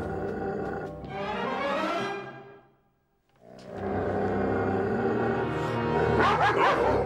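A dog gives a run of excited barks and yips, close and fairly loud, breaking off briefly in a short silence before starting up again more intensely with high whimpering yelps.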